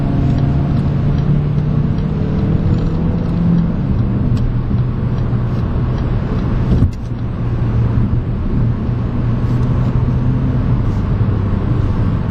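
A 2012 Ford Focus SEL hatchback with a 160-horsepower engine driving on a public road, heard from inside the cabin as a steady loud engine hum and road roar with a brief dip midway.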